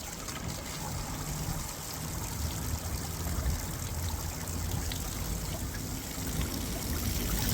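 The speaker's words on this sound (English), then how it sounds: "These pumps can run dry for a short time, but try to reposition pumps to ensure water is always flowing." Salvage pumps moving water make a steady rushing, trickling flow that stays continuous and fairly loud throughout, with no talking.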